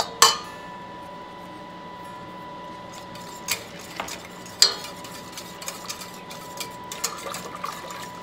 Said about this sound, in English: Now I'm just going to keep stirring.